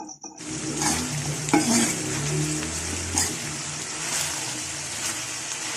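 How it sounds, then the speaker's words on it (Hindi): Mixed vegetables of potato, cauliflower and peas sizzle steadily in a spiced pan, with stirring scrapes and clinks over the continuous close frying hiss and no talking. "सब्जी को अच्छी तरह से भून लेती हूँ।"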